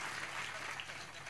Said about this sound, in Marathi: दोन्ही मामांसाठी जोरदार टाळ्या होत्या